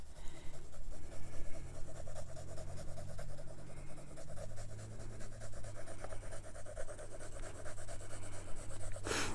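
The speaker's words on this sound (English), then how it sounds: "now I'm going to pick out this is my 3B pencil. And so now I'm going to finish it up with that." A 3B pencil shades a simple vase drawing on paper, producing soft, continuous scratchy strokes that repeat in a quick back-and-forth rhythm, close and fairly quiet, with no talking.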